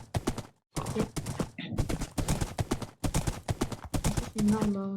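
Rapid clip-clop of a horse's hooves in Minecraft, in quick rhythmic bursts separated by short pauses, with a brief in-game tone near the end.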